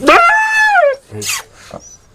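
A dog gives a long, high whine that slides downward, then a couple of short yips and whimpers, close by and loud.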